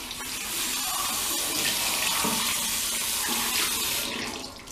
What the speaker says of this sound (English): Wash your hand with the water.